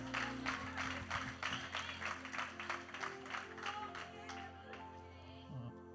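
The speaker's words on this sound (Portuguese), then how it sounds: "Você pode aplaudir Jesus?" A church congregation applauding Jesus in rhythmic unison, a run of loud regular claps over sustained musical tones that fades out toward the end.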